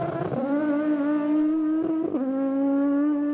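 A five-cylinder touring car from the 1990s British Touring Car Championship races past, its engine note a strong buzzing wail that rises and shifts through gear changes, loud and steady with no voices.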